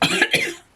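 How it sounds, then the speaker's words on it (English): A single close cough with a couple of rough bursts, fading out over under a second. "I'm just going to cough"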